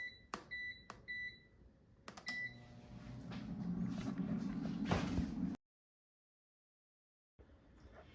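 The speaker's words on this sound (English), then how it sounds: "So now I'm going to set my air fryer to 400 degrees Fahrenheit temperature, and I will set the time to 20 minutes" An air fryer being set to 400 degrees gives several short, sharp electronic beeps near the start, followed by a stretch of handling and clattering noise, then silence.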